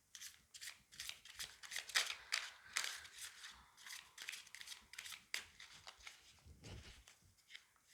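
A deck of tarot cards being shuffled: soft, papery riffles and slaps repeat in quick, uneven bursts for several seconds. The sound is close and moderately quiet, with no talking.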